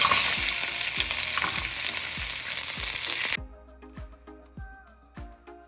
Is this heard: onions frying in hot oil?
yes